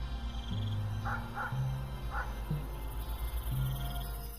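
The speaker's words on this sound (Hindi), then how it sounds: "गीदड़, कुत्ते की आवाज आ रही है" Distant dogs and jackals barking and yipping in short bursts over a steady low drone, with a few thin howl-like cries mixed in.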